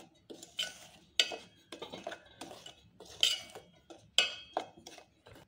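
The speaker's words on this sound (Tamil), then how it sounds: "இதை ஊற்றி ஊற்றி நம்ம வந்து கொஞ்சம் கொஞ்சமாக ஊற்றி நம்ம இதை வந்து கலந்து எடுத்துக்கலாம்." Jaggery syrup is stirred into batter with a spoon in a metal vessel, giving a steady series of clinking scrapes about once a second, close and fairly quiet.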